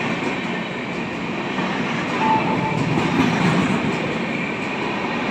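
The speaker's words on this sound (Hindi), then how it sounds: "ये राजधानी एक्सप्रेस, सॉरी ये दूसरी ट्रेन है, ये ना रुकने वाली ट्रेन है, ये नहीं रुकेगी" A non-stopping train running through Devlali railway station, with a steady, loud rumble of wheels on rails and a faint squeal, heard from the platform.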